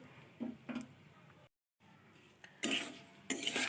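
Coconut spice bait paste is stirred in a pan on a gas stove, giving a few soft scraping clinks of a utensil, then a short silence and louder, brighter scraping bursts near the end.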